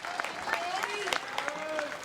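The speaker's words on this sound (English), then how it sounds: "That's the biggest cheer we've heard in a while around this green" A crowd cheers and claps around the green at a 2023 World Bowls Championships women's fours final, a lively burst of applause with whoops and voices mixed in.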